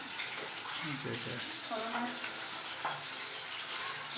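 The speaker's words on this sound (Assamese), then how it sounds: "মাছ ফ্ৰাই আছে সৰু মাছ" Small fish fry in a pan with a continuous bright sizzle that stays steady throughout, while people talk over it nearby.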